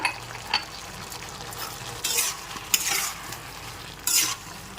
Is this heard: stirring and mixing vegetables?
yes